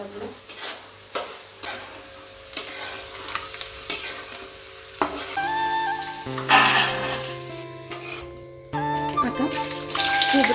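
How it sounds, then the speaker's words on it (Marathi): Peanuts frying in hot oil in a home kitchen pan, a steady sizzle broken by repeated sharp scraping stirs of a utensil, with a brief run of tap water near the end. "आधी मी शेंगदाणे तळून घेते"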